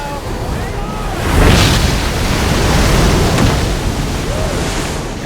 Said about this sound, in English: Large waves, moving at speeds of up to 70 miles an hour, surge across thousands of miles of open ocean.